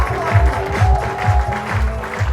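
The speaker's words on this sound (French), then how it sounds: "faites du bruit pour Adrien Bonan" Audience applause and cheering at an open-mic comedy and magic night, a dense, steady wash of clapping hands with crowd noise swelling and dipping throughout.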